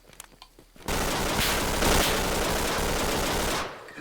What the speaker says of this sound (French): Je reçois des tirs par l'arrière.